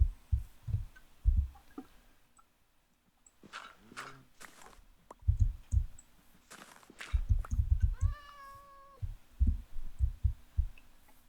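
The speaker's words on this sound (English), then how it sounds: "Got a cat." A cat meows once in the Minecraft video game, a short, clear meow heard amid thumping footsteps and other game sounds.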